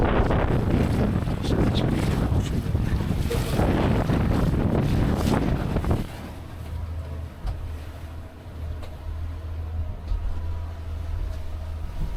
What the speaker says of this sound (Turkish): En korunaklı burası ama çok rüzgar var. Bilmiyorum ses nasıl geliyor.